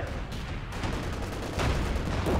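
Stuka rocket barrage in Company of Heroes 2, a dense rumbling volley of booming explosions and crackling fire packed together, loud and continuous, growing heavier near the end.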